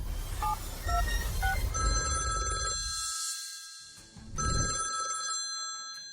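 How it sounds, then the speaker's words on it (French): A telephone on a private line rings with loud electronic trilling bursts, close and clear, repeating with a short gap between rings over low rumbling background noise, no talk. "40 ans qu'elle n'a pas sonné, la ligne privée de Maître Chu"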